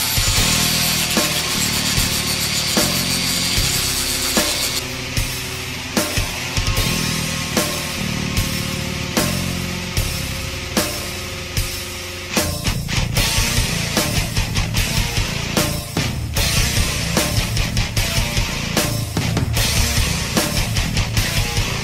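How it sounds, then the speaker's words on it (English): A 25/64 inch drill bit bores out the center of a 3/8 inch steel tube, giving a steady, loud grinding and scraping that continues throughout, with brief pauses and a heavier, harsher stretch toward the end. "I will drill that center out with a 25/64 inch drill bit"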